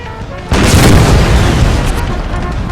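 A battery of Civil War artillery in a video game fires, a loud boom breaking in after a short lull and rolling on as a sustained, rumbling barrage with voices shouting underneath.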